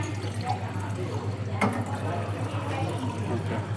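Water is poured into a drinking glass, a steady splashing trickle running for several seconds beneath people talking nearby.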